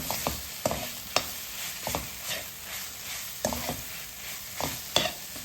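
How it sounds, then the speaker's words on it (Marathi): A masala with a little coriander is stirred and roasted in a pan over medium gas: a steady, soft sizzle broken by a rhythmic series of close, sharp spatula scrapes and knocks against the pan. "तर आता हे चांगलं आपण 1 मिनिट असं परतूयात मीडियम गॅसवर."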